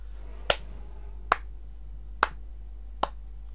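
Four slow, evenly spaced single claps ring out sharply and alone over a steady low hum, mocking applause during a World of Warships game session.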